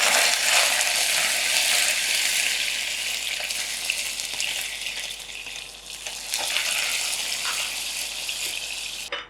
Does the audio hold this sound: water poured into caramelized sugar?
yes